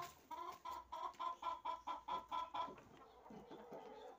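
Chickens clucking at a poultry sale, a run of short, regular clucks fairly close but quiet, fading into softer mixed background sounds toward the end.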